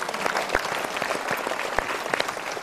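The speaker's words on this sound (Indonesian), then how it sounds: "Kita berikan tepuk tangan dulu" Audience applause at a Mario Teguh Golden Ways motivational seminar: a steady, dense wash of many hands clapping for nearly three seconds, with a few sharper individual claps standing out.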